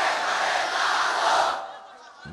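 A large crowd at a religious mahfil roars out a loud chanted response, a dense wall of voices that sustains before cutting off abruptly and leaving a quieter room.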